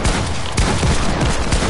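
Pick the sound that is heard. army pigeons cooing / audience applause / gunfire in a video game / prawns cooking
gunfire in a video game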